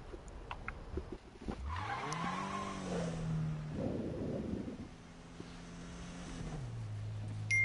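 A car in the Need for Speed video game revs up, its engine whine climbing and then holding steady, with a loud, close burst of tire skidding midway before the engine settles into a lower drone; no one speaks.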